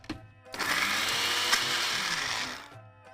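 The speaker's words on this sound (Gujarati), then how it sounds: "હવે એક વખત મિક્સર ફરાવી લઈએ એટલે થોડો ભૂક્કો થઈ જાય." A kitchen mixer grinder breaks up rough pieces of bread in its jar, a loud, steady whirring burst lasting about two seconds that starts and stops sharply.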